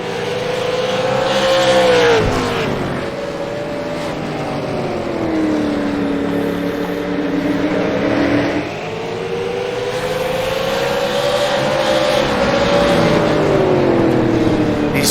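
Race cars from the All American Racing League lap the Irwindale track, a loud continuous engine drone rising and falling in pitch as they sweep past, with a brief dip mid-run and steady roar throughout.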